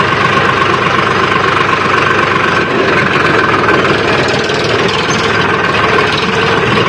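A steady, loud tractor engine idles continuously in a cotton field, with a low rumbling chug and constant mechanical vibration, no pauses, and no voices.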